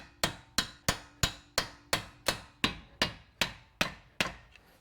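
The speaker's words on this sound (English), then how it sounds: "Get a little hammer." A small hammer taps a CV axle through the hub of a 2005-2008 Honda Pilot, with about a dozen sharp metallic strikes in an even rhythm, close and distinct, each ringing briefly.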